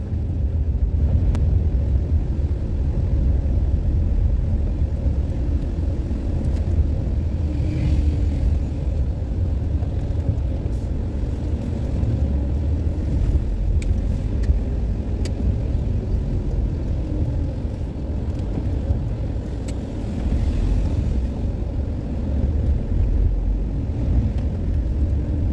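A campervan cruising on a road toward Ingleton in Yorkshire gives a steady low engine and tyre rumble with road noise, continuous and even from inside the cab, no voices.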